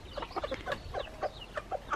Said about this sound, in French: Ah, il y a une maman et ses petits poussins là-bas.